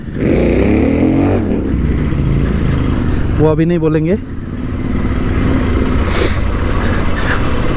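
Royal Enfield motorcycles in a slow group ride, a steady mid-pitched engine drone running throughout, close and loud, with a brief rising rev near the middle and people talking over it.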